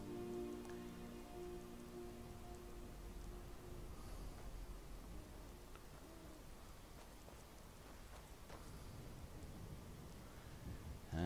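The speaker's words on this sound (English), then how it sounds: "It's just started raining." Steady rain falls in Skyrim Special Edition near Helgen, a dense, even hiss of drops that fills the whole stretch with no one talking.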